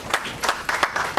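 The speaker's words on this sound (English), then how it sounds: "Let's clap for him, please." Applause from the audience at a book lunch: a brief, dense patter of many hands clapping, fairly close and steady across about a second.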